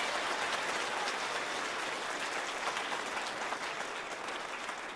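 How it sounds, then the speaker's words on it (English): An audience at a children's chorus concert applauds a young choir singer, a steady, even wash of clapping that holds from start to finish, moderately distant. "Please give her a round of applause."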